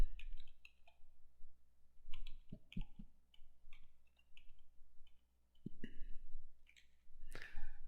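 Crisp, close computer mouse clicks come singly and in quick pairs amid a few light key taps, with pauses of quiet between them and no speech.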